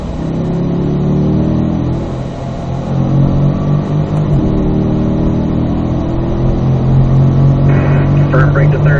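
A Corvette on a racetrack accelerating through the gears, with loud engine drone rising in pitch, a shift and renewed climb, heard from inside the car under a voice talking.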